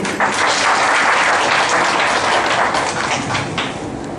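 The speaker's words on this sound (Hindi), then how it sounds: "जोरदार तालियों से।" Crowd at a prize distribution ceremony honouring a district magistrate gives loud, close applause, a thick burst of clapping that stays strong and begins tapering toward the end.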